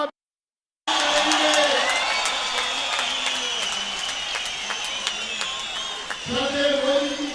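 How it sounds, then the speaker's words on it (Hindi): Continuous applause from a large crowd at a public reception for Prime Minister Narendra Modi in Shimla, Himachal Pradesh, swelling after a brief silence and holding steady with scattered claps, a voice speaking over it on the public address. "लगातार तालियों की गड़गड़ाहट के साथ हम उनका"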